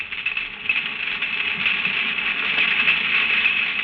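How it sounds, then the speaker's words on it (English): A dense, continuous crackling hiss of snapping shrimp underwater, countless tiny clicks blending into a steady chorus. "That noise is made by snapping their claws together."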